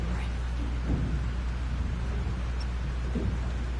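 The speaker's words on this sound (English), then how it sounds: "This storm is real." A thunderstorm with rain in the video game Life is Strange. Heavy rain hisses steadily, broken by two low rumbles of thunder, one early and one near the end.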